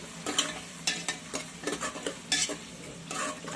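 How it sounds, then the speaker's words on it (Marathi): Tomatoes sautéing in oil in a pan for egg biryani, with steady frying sizzle and repeated scraping stir strokes close by, no voices. "टॉमॅटो आहेत ना ते पण त्याच्यात ऍड करायचे ते पण त्याच्याबरोबर व्यवस्थित थोडे शिजून घ्यायचे व्यवस्थित सगळं परतून घेऊया आपण हे तेलामध्ये"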